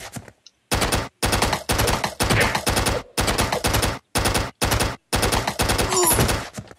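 Repeated shotgun fire in a flash video game comes in a tight series of loud, harsh bursts, roughly eight in quick succession with brief silent gaps, dominating the sound without any voices.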